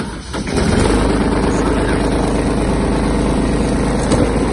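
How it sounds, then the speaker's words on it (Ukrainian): A small diesel engine on a Kubota GB-200 Japanese mini tractor cranks briefly and catches, then settles into a loud, steady idle close by. "Трактор заводиться добре"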